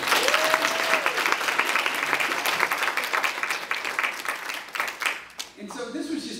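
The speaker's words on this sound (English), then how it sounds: "so another round of applause for John and Barbara and Emma." A sustained round of applause from an audience at a grassroots civic engagement gathering, dense clapping steady throughout and tapering slightly at the end, with a voice briefly heard over it.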